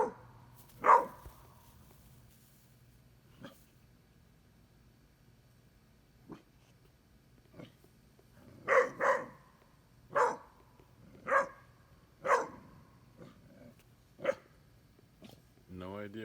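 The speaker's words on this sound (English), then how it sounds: "I think she's barking at that tarp." A dog barking at a moving tarp outdoors, a scattered series of sharp barks, some in quick pairs, with a person talking quietly between them.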